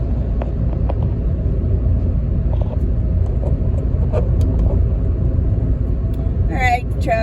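A car drives through steady traffic near Garland and Greenville, Texas, picking up speed toward a bridge. The engine and road rumble form a constant low drone, a few brief higher sounds cut through, and there is no talk.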